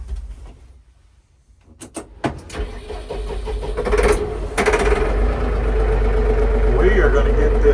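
A farm tractor's engine starts up close by after a few sharp mechanical clicks and clunks, then settles into a steady, low, rumbling idle.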